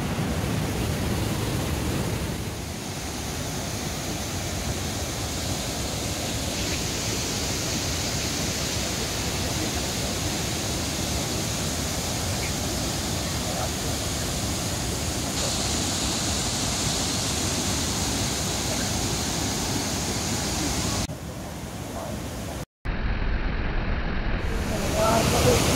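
Water rushing over rocks at Bhimokud waterfall in Mayurbhanj, a loud, continuous broadband roar filling the whole scene, with a brief break near the end.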